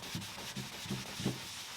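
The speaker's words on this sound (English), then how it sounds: "I'm using a microfiber cloth." A microfiber cloth buffs dried wax on a vintage desk in soft rhythmic rubbing strokes, about four quiet swipes, close and faint without talk.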